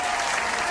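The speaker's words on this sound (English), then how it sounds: "Come on, I need some hand claps." A studio audience claps loudly and steadily for guest Kyra Jefferson on a community talk show, a short, dense burst of applause.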